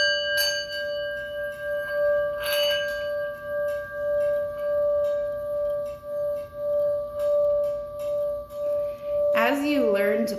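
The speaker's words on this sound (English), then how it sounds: "So now we'll actually play the bowl and see what this sounds like." A singing bowl rings with a steady sustained tone and overtones throughout, struck or rimmed with brief accents near the start, and a higher wavering chime enters near the end.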